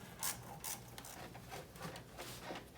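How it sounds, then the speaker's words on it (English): Ratchet turning an 8mm socket on an extension to loosen a throttle body clamp, giving a series of quick, close metallic clicks and ticks in short bursts across the clip. "on this clamp right here, you're just going to want to use an 8mm. I have an 8mm on an extension on a ratchet"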